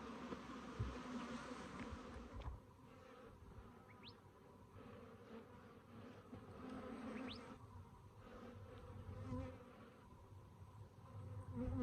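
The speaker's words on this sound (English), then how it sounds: "Happy bees, happy bees" A steady, dense hum of many Cordovan Italian/Africanized hybrid honeybees buzzing around a five-frame nucleus hive nearby, with individual bees droning past now and then; no talking.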